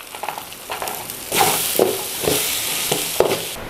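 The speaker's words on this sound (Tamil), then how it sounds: "இதை எண்ணெயில் நல்லா வதக்கியிருக்கோம்." Spices and cashews sauté and crackle in hot oil for butter prawn masala, a steady sizzle broken by scraping stirs and sharper spatters at irregular moments, close up with no talking.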